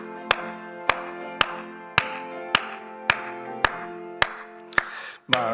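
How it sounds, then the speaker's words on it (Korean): A church congregation claps together in a steady rhythm while singing a hymn at a Wednesday service, about ten sharp, evenly spaced claps ringing over sustained sung tones. "우리 박수 치면서 함께 찬양합니다."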